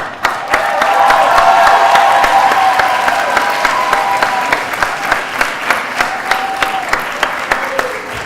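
Applause at a school winter commencement ceremony, a large crowd clapping loudly and continuously with scattered cheers, sharper individual claps standing out near the microphone as it gradually thins.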